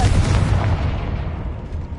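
Blasting curse spell explosion in the Hogwarts Legacy video game, a loud, deep boom with rumbling low end that decays over about two seconds.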